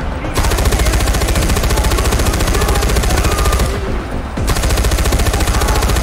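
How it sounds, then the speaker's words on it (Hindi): Rapid machine gun fire rattles continuously in the video game Far Cry 4, loud and dense, with a short dip in the bursts partway through. "मशीन गन देख रहे हो?"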